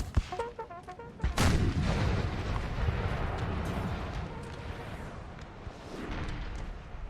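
Napoleonic-era cannon fire from a 6-pounder King's German Legion horse artillery battery in the game Napoleonic Total War 3: a sharp loud boom early on, then a long rumbling roar of distant battle noise with scattered cracks.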